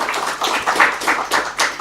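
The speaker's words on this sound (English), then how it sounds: "Another round of applause for this panel." A conference audience applauds a panel in a hall, a steady wash of many hands clapping with uneven swells, fairly close and without talk over it.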